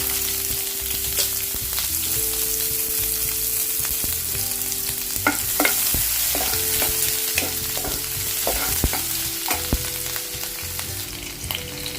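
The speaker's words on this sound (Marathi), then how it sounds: "तेल गरम झालं आता राई घेतली आहे ती घालते एक कांदा कापून घेतलाय असा बारीक तो घालते" Mustard seeds and finely chopped onion fry in hot oil, a steady close sizzle with scattered popping crackles and occasional stirring scrapes, no voices.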